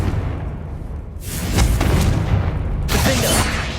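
A Confringo fire blast spell in Hogwarts Legacy bursts with a loud booming whoosh, followed by a second heavy blast a moment later, both rumbling and close.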